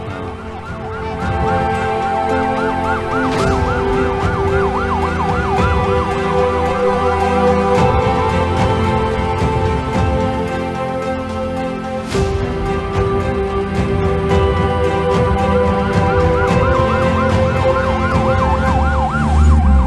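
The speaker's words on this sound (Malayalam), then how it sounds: "ഇതേതാ പുതിയൊരു ആംബുലൻസ്? നമ്മുടെ MP അനുവദിച്ച ആംബുലൻസാ." A new ambulance siren wails continuously, loud and close, its rising and falling tone repeating steadily with an engine rumble underneath.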